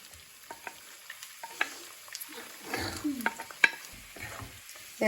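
Finely chopped onions frying in a pan for crab roast, with an uneven sizzle, stirring and clinks of utensil against pan rising and falling up close.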